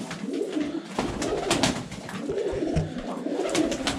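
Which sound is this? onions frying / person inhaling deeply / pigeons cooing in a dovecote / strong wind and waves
pigeons cooing in a dovecote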